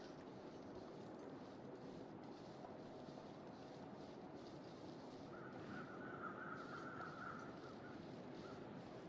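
Crows caw steadily in The Long Dark, a survival video game, set against a constant broadband ambient wash of wind or rushing water, with a brief higher tonal call rising midway; no one talks.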